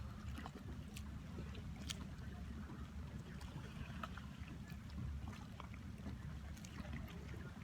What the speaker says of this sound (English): gently just licking the concrete pier where you're sitting.